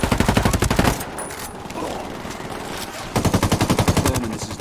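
Sustained automatic gunfire in Ghost Recon Wildlands, a loud, close, rapid rattle of shots that breaks off for a couple of seconds and then resumes in another fast burst.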